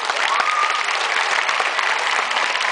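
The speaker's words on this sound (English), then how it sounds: "please give them a big round of applause" A crowd claps steadily and densely for a pair of birthday parrots at a bird park show, a sustained broadband wash of applause that stays loud and even throughout with no voices over it.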